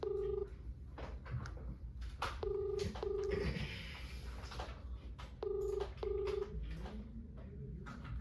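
Outgoing phone call ringback tone repeating in regular paired bursts, fairly clear over a steady background hum, with no talking.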